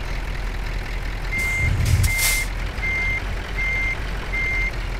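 Reversing beeps from a truck in Euro Truck Simulator 2 sound five times at an even pace over a low, rumbling engine drone, with a brief hiss partway through.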